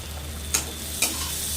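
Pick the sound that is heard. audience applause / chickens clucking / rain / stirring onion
stirring onion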